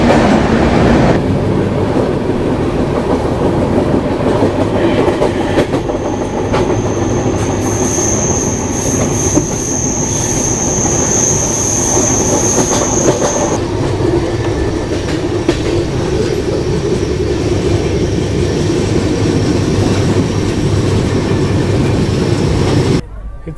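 A train on the line near Karjat station rumbles steadily and loudly throughout. There is wheel noise, and a high squeal rises in the middle.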